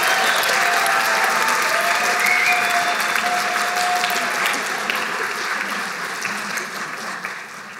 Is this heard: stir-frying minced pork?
no